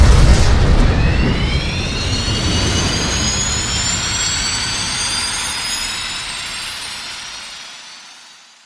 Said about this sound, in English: Engine output at maximum.